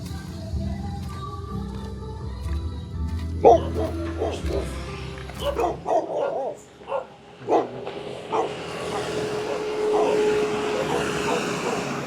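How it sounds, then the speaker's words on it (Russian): Several dogs barking during a long hike across rural Bali, a run of sharp yips and barks at moderate distance, with voices and a droning aircraft overhead. "Здесь собаки."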